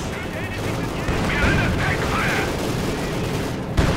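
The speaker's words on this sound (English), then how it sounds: "Another fragmentation bombing on Dagos" Fragmentation bombing in the WWII strategy game Company of Heroes 2 during a 1v1 match, heard as dense continuous gunfire and explosive bursts with a sharp bang near the end, under background battle noise.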